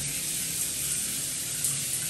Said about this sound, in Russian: Это кран для мытья ног,